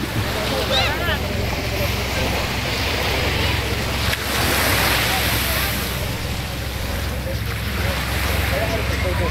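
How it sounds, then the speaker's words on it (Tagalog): Steady wash of calm surf on a beach at Pagudpud, a continuous soft roar with some wind rumble, close by and fairly loud throughout. "Ganda ng dagat, banayad."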